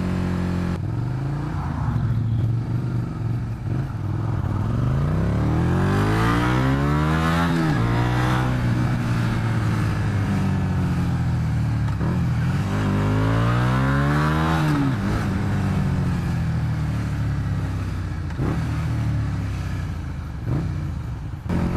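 Road traffic passes close by a moving motorcycle on a mountain highway, with engines rising and falling in pitch as vehicles accelerate past in two clear sweeping surges over a steady riding roar.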